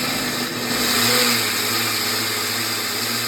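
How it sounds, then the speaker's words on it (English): Blender running steadily while grinding whole grain steel-cut and large-flake oats, a loud continuous motor whine with a slight pitch rise near the start. "So blend it until it's all nice and fluffy like that."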